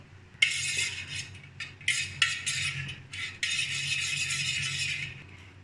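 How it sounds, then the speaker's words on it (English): Curd is whisked in a big vessel with a metal whisk, making bright, clattering bursts of metal against the pot, near and brisk, with short pauses between rounds of stirring. "I'll whisk this curd in a big vessel using this kind of whisker."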